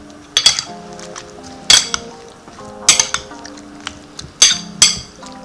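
Salad of tofu, cilantro, cucumber and radish is tossed in a bowl, giving a few sharp clinks and scrapes of utensils against the dish in separate bursts, close and fairly loud with quiet gaps between.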